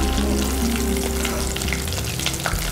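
Potatoes fry in hot oil in a home kitchen for an evening snack, a loud, constant sizzle and crackle with a low steady hum underneath and no talking.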